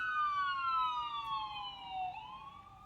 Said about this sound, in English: we'll let that siren go by.